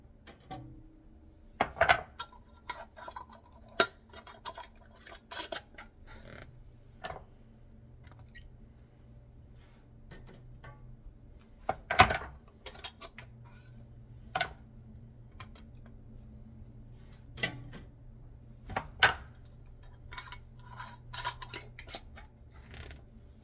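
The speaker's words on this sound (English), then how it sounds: "I'm just going to tighten these until they're tight enough to hold down the lids" Metal bands screwed onto canning jar lids over jars of sweet potatoes: a string of small sharp clicks and ticks, scattered and irregular, close and fairly quiet against a faint background hum.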